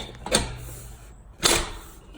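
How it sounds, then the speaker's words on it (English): Two separate doors of a homemade kerosene-fired powder coating oven thud shut about a second apart, each a short, solid knock with a brief metallic rattle. "Close the right hand door, and then close the left hand door."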